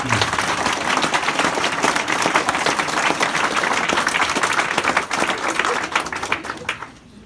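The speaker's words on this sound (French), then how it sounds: "Je pense qu'on peut les applaudir aussi" Audience applause at an inauguration ceremony for a vocational training programme, a dense sustained burst of many hands clapping that holds steady for several seconds before thinning out and fading at the end.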